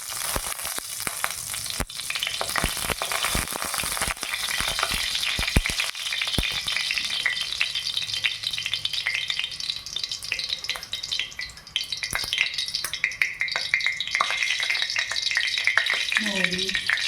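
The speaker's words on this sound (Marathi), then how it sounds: "आता मी फोडणी टाकणार आहे। थोडेसे तेल घेते।" Oil heating in a pan for a phodni tempering while cooking Maharashtrian methi bhaji, a steady close frying sizzle with stirring clatter and scraping throughout, no talk over it.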